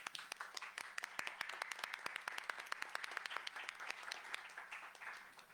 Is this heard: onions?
no